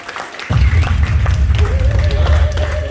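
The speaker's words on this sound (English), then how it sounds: "So I want you all to give these guys another round of applause." Applause from an audience at a short talk about a musical journey, a dense steady wash of clapping that swells in abruptly after a brief quiet moment and continues loudly throughout, with some talk mixed beneath.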